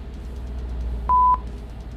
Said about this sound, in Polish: Zaraz tachograf powinien nas o tym powiadomić, że została nam tylko godzina jazdy.